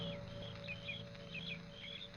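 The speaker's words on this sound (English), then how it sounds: "The sound of birds and crickets seemed loud in my ears" Birds chirp in short bright calls over a steady high insect drone of crickets, a faint outdoor ambience with no talking.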